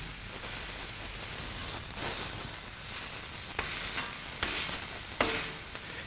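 Beef patties being smashed on a hot griddle for an Oklahoma fried onion burger, with a steady faint sizzle broken by several sharp scraping pressing sounds at irregular intervals.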